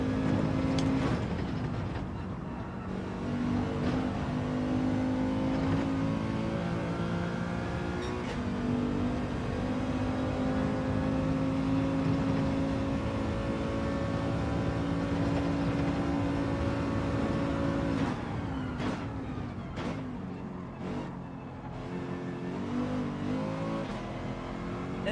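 A Subaru race car in Gran Turismo 7 holds a loud, steady engine drone at high revs for most of the stretch, then shifts and changes pitch near the end as it works through the gears.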